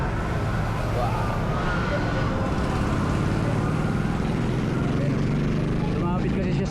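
An ambulance siren wails at a road accident scene at a busy intersection, its rising and falling tone sitting faint and distant in steady traffic noise, with people talking nearby.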